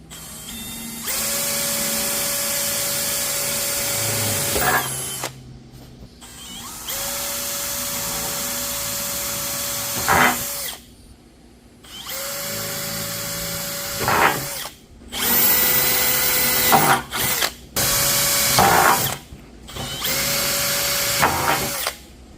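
A power tool drives 3 1/8-inch structural lag bolts into a fifth wheel RV's frame sidewall, loud close whirring runs of several seconds each, broken by brief pauses and ratcheting clicks as each fastener seats.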